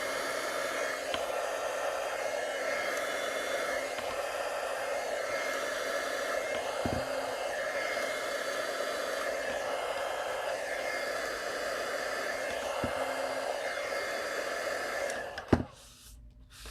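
A heat gun used to melt embossing powder blows with a steady, close, whooshing roar that holds for the whole stretch, then cuts off with a click near the end.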